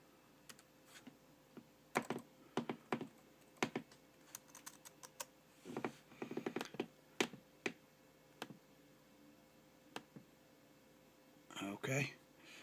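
Faint keystrokes on a computer keyboard come in irregular bursts of quick clicks separated by pauses, close but quiet, ending in a short busier flurry.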